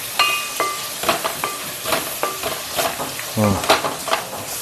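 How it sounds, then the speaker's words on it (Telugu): Onions sizzling and frying in a pot for mutton curry, with a spoon scraping and stirring in short repeated strokes and light clinks of metal, close and fairly loud. "అది బాగా దోరగా ఎగిపోయినాయి ఉల్లిపాయలు అయితే"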